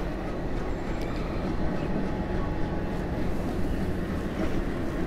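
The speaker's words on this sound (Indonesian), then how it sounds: "ada kereta jenis lain nih Meridos, tampaknya ini bukan kereta listrik ya. Tenaga diesel." An Indian Railways diesel passenger train passing close by, a steady loud rumble of wheels and engine that holds at the same level the whole time, with no voices.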